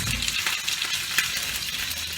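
Cut tomato quarters frying in a pan, a dense, bright, even sizzle with light crackle throughout, close and steady, no speech.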